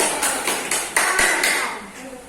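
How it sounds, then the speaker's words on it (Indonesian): Classroom clapping for a student, scattered hands striking in a loose cluster of sharp claps, close and moderately loud, fading toward the end. "beri tepuk tangan buat Nala"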